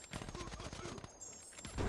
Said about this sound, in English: fire off my special 2.